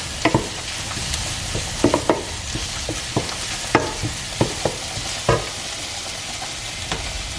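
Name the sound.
stirring Italian sausage, herbs and garlic in a frying pan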